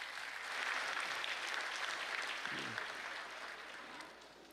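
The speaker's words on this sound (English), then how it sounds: "Can you give her a round of applause?" A steady round of applause from an audience at an official independence day ceremony in a capital courtyard, a dense wash of clapping that swells then slowly tapers off.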